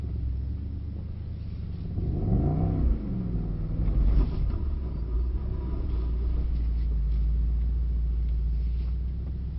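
A Mercedes SL63 pulls away at Mercedes-Benz World, its engine rumbling steadily and rising in a revving sweep as it accelerates off, then holding a loud, continuous drone close by with no talk.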